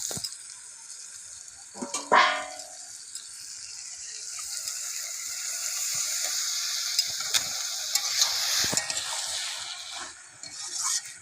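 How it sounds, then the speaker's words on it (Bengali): Country chicken sautéing with spices in a pan: a soft sizzle under repeated scraping and clacking of a ladle against the pan, with a louder burst of stirring early on, no speech. "ভালো করে মশলার সাথে কষিয়ে নেবো মাংসটা"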